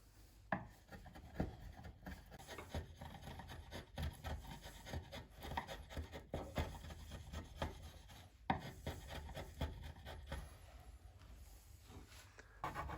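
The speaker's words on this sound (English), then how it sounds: "So the back of the chisel, as I mentioned earlier, is burnishing" A chisel pushed forward and down carves and burnishes the wood of a polychromed carving, giving soft repeated scraping and rubbing strokes with occasional light knocks, quiet and close.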